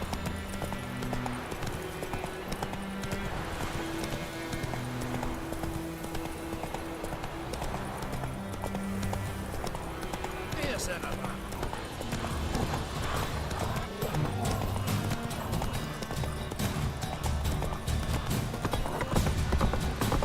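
Roach the horse galloping in The Witcher 3, a steady rapid clip-clop of hooves, close and continuous, over game music with occasional snorts.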